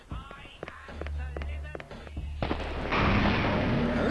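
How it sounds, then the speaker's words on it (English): Shotgun firing in the video game Shadow Man, a series of sharp separate blasts followed by a denser burst of noise, loud and close with no speech. "Might as well test out the shotgun for a little bit."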